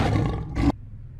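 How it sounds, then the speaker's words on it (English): A toy lion gives a loud, harsh electronic roar in two close bursts that cut off abruptly, leaving quiet hiss behind. "lion,"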